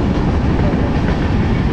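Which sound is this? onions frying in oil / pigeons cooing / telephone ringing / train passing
train passing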